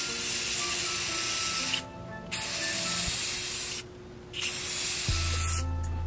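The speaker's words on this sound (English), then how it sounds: "you wanna spray evenly, not too much" Glossy clear coat is sprayed from a can onto a car grill in three close, loud hissing bursts separated by short pauses, with the last burst cutting off abruptly.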